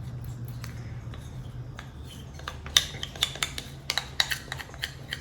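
A spoon scraping molasses out of a container, with a quiet start followed by a run of sharp metallic scrapes and clinks close by, irregular and growing more frequent toward the end.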